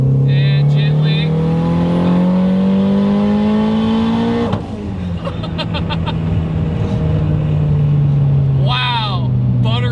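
A 750hp Toyota MR2 with a K-series engine swap accelerates hard in third gear. The loud engine tone climbs steadily, dips briefly at a shift and then keeps pulling with a rising whine.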